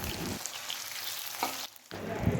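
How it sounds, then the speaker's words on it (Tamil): Chicken pieces fry crisply in hot oil, a close, dense sizzle that briefly drops away twice before surging back, with no voices. "எனக்கு டைம் இல்லாதனால நான் எல்லாம் ஒன்றா போட்டு பொரிச்சுக்கிறேன்."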